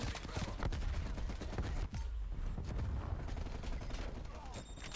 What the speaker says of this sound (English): My head hurts from all the explosions.